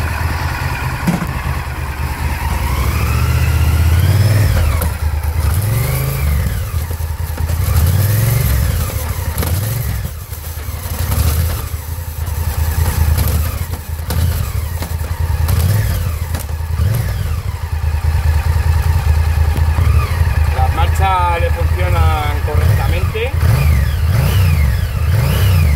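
A Honda Varadero motorcycle engine revs up and down repeatedly at close range while the gears are checked, loud rising and falling swells with brief idling dips between them.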